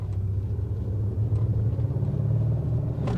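A low, steady synthetic engine-like hum drones continuously inside a 2023 Mercedes-Benz EQE 500 SUV electric car, smooth and even with a deep rumbling tone.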